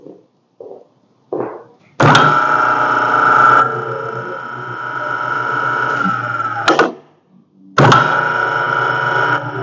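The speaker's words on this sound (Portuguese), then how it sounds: "vou fazer o acionamento do motor para você ver como que é o tempinho de desligamento" An electric brake motor kicks on with a steady, loud hum, runs for several seconds, cuts off abruptly, then starts up again; a few soft clicks come beforehand.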